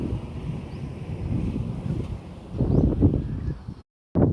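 Gusty wind buffets the microphone outdoors near a river under a darkening sky before unseasonal rain, a low rumbling roar that swells and briefly cuts out.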